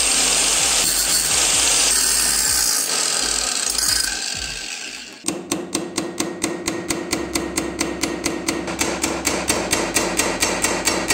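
Grinding noise gives way to a rapid series of sharp metallic hammer taps on a metal pin in a Solingen multitool, evenly spaced and close, continuing steadily to the end.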